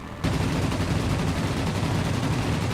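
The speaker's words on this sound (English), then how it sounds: "Oops, and our I-16 was killed by anti-aircraft fire" Sustained, dense anti-aircraft gunfire from the air-combat game World of Warplanes, a continuous loud rattling barrage that starts abruptly and roars on without pause, with no talk over it.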